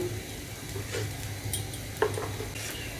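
Rice and lentils being fried and stirred together in a pan for vegetarian khichuri, a steady close crackle with scraping utensil sounds, no talking.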